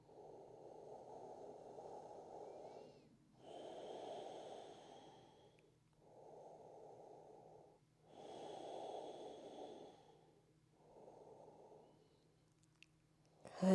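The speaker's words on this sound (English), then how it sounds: "Let's take 3 more slow breaths here" Slow, deep breathing during a standing yoga stretch for the hips and hamstrings: five long, airy breaths with short pauses between them, close and quiet, with no talking.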